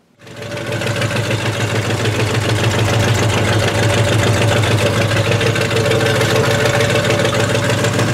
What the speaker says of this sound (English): The exhaust note on this car would indicate that we have a dead miss